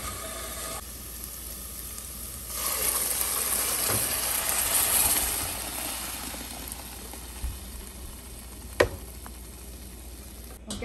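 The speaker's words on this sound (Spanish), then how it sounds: "Vamos a sofreír la cebolla" Onion frying in a pan for Oaxacan tamales gives off a steady sizzling hiss that grows louder after a few seconds and then settles. Occasional clinks and taps of stirring cut through.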